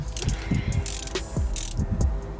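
A ratchet wrench loosens bolts from the top of a bracket with rapid, close ratcheting clicks and occasional metallic clanks, repeating in short bursts for a couple of seconds.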